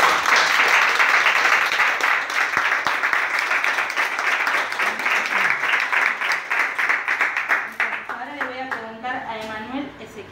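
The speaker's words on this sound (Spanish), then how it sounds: "un aplauso para todos" Guests applaud at a civil wedding ceremony, a dense burst of many hands clapping that holds strong, then thins out and fades, with voices talking over the dying claps at the end.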